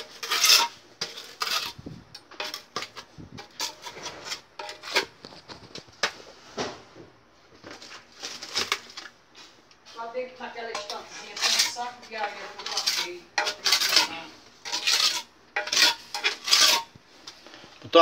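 A trowel scrapes and clinks against a pot while cement mortar is mixed for setting shelf brackets into a wall, giving irregular metallic scraping strokes at close range, with someone talking in between.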